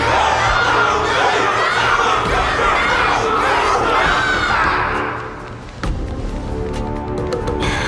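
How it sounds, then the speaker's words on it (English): A large crowd cheering and shouting in the Honkai: Star Rail video game, loud and sustained roaring voices that fade down near the end into lighter game sounds. "Everyone's cheering for you"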